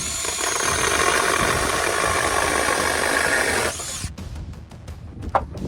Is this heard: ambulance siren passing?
no